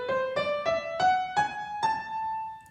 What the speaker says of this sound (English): So if I were playing a melodic minor ascending, it will sound like this.